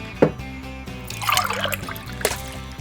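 Wine poured into a glass at the 21 Brix winery, a short trickling, gurgling stream of liquid over steady background music.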